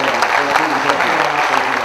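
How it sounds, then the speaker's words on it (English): Audience applause at the Goafest 2012 knowledge seminar, a brief, dense burst of clapping that fills the room and holds steady throughout. "Let's have a big round of applause for Jonathan."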